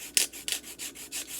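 A nail file rasps across an artificial nail tip fitted on a practice finger, five or six quick evenly spaced scraping strokes, close and crisp, with no talking.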